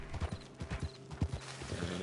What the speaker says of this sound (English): Stupid horse.